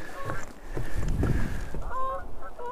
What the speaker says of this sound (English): Even the geese are heading home